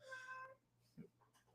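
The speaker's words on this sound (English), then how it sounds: "If you guys can hear my cat," A pet cat meows for attention, a faint short meow near the middle with a softer one after, following a brief spoken phrase in a quiet room.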